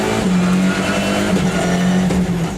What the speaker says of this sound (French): Plutôt que d'observer passivement ce bolide sur les bas-côtés de la base d'entraînement espagnole de Citroën, nous vous proposons 4 km de sensations pures avec Philippe Bugelski aux commandes.